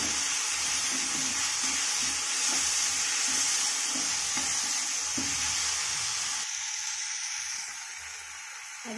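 Poha and salt stirred together in a hot pan, a steady sizzle and hiss with soft scraping strokes of the spoon repeating in a loose rhythm, fading a little toward the end.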